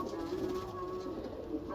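A Ferozpuri pigeon coos softly in a short, faint, low burst close by.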